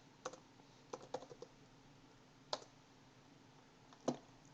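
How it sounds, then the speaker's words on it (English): Sparse, quiet keystrokes on a computer keyboard: a few scattered taps and short bursts of clicks with pauses between, close and faint over a low background hum. "We'll type in no again."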